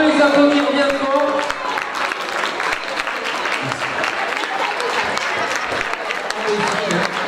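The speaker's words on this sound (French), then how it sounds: "Et on peut les applaudir bien fort." A crowd at a French town festival queen election applauds the girls as they walk in, keeping up a steady, loud clapping under faint cheers and chatter.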